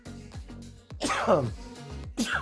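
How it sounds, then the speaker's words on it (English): A man sneezing close to a microphone, with two sharp, forceful bursts a second apart, following some muttered speech. "I'm sneezing."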